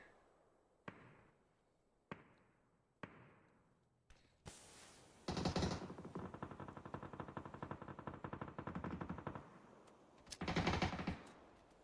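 Video game gunfire: several single sharp shots spaced about a second apart, then sustained rapid automatic fire bursts, loud and close with ringing decay.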